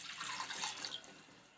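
Water is poured into a pan for cauliflower kurma, a close, bright splashing stream that runs steadily and then tapers off quietly near the end, with no voices.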